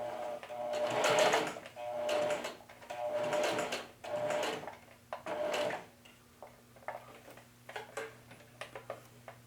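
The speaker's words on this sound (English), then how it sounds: "I'm just going to stitch it up and lock it." A sewing machine stitches a pocket onto cut pant legs in several close, loud whirring bursts of rapid stitching separated by short pauses, then quick single clicks and brief taps as the fabric is pivoted and locked.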